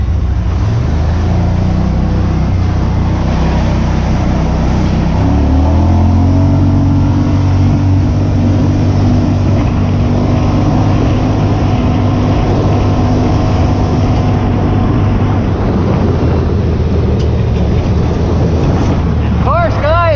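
A Yamaha Wolverine X4 side-by-side engine drones loudly and steadily near full throttle outdoors, its pitch rising after a few seconds and then holding a sustained roar, with a voice heard over it.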